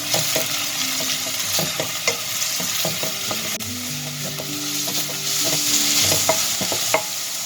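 Chopped onion fries in olive oil in a cooking pot, giving a continuous close sizzle broken by repeated scrapes and knocks of a spoon stirring against the pot.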